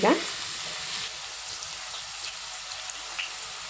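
Brinjal pieces fry in a pan with MTR vangibath powder for Karnataka brinjal rice, a steady close sizzle opening with a brief clatter, then continuous hissing with light stirring.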